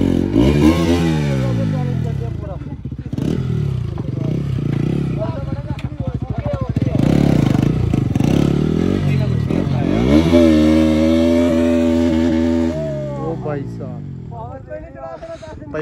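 A motorcycle engine revs hard and loud, climbing and falling in pitch repeatedly with rough, sputtering bursts, close by, while someone talks and shouts over it.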